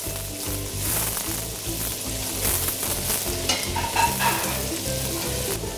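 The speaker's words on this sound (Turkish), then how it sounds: "Sonra pembeleşinceye kadar karıştırıyorum soğanları da" Sliced onions fry in hot oil in a pan while being stirred: a dense, continuous sizzle with scraping strokes over a low rhythmic hum, close and steady without speech.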